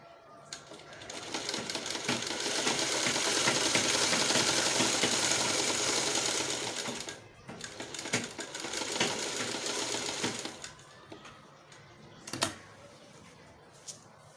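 A sewing machine stitches a kurti neckline in a steady rapid whir, running continuously for several seconds, pausing briefly, then resuming in shorter bursts at close range.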